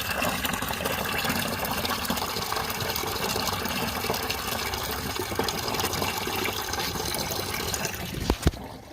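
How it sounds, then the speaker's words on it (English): Fluid from a 2005 Nissan Titan drains into a bucket in a continuous loud gushing pour that holds steady for several seconds, then a couple of sharp knocks come as the flow ends. "I'm draining in a bucket"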